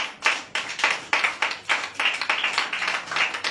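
Church congregation clapping and applauding the Lord during a Sunday worship service, a dense run of hand claps with uneven bursts and swells, loud and close, with no talking over it.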